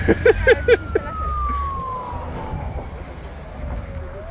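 A fire truck siren wails with a long falling tone across the clip, heard at a distance over street traffic rumble in Mamaia Nord during a fire, with a few brief honks at the start.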